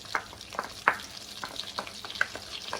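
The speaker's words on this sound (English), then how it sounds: "what I'm going to do is add 6 large cloves of chopped garlic" Chopped garlic cloves frying in butter in a pan, a soft steady sizzle broken by several sharp scraping clicks of a utensil stirring, fairly quiet and close, no talking.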